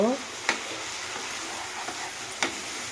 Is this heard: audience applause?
no